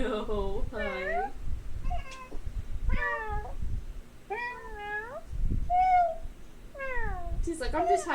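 Gooby, a female pet cat being held indoors, meows close by again and again in short rising-and-falling calls, while people talk softly over and between the meows.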